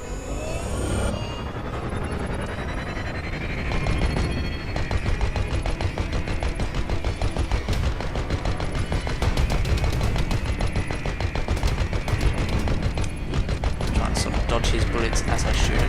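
Spaceship guns firing in the video game Elite Dangerous, with rapid continuous bursts of weapon fire over a dense rumbling background, loud and sustained throughout.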